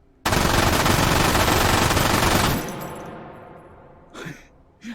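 An MG42 machine gun chambered in a rifle cartridge, fired off its bipod in the VR game Hot Dogs, Horseshoes, and Hand Grenades, roars in a loud sustained burst for over two seconds, then echoes and fades, followed by a couple of faint thumps.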